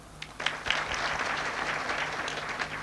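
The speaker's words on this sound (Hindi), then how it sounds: "बजा दो ताली।" Audience clapping together at a devotional Bhagavat Katha spiritual discourse, a steady wash of applause that rises after a few scattered claps and holds at even loudness throughout, with no talk over it.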